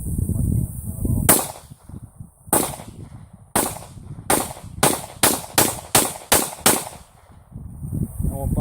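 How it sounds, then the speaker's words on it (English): Ten sharp, loud shots from a .40 Smith & Wesson pistol, starting with slow, evenly spaced reports and quickening into a rapid string, each crack ringing out over outdoor background hiss. "Let's go ahead and try out this 40 Smith & Wesson."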